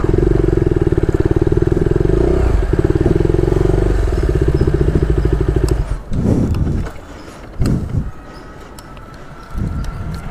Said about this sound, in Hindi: बाइक को घुसा देते हैं अंदर